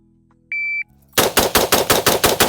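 A semi-auto rifle fires a rapid string of about eight loud shots in even succession at a timed shooting course, preceded by a short electronic start beep.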